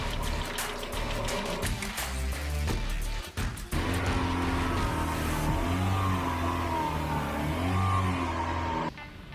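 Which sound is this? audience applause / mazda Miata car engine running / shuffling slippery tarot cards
mazda Miata car engine running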